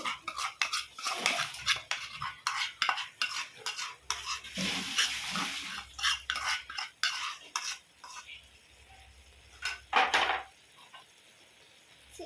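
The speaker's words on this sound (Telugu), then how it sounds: "ఒకసారి కలుపుతాం" A spoon stirs coconut paste into a spiced thalakaya curry in a pot that has started catching at the bottom, producing a run of close, irregular scraping and clattering strokes with a short pause near the end.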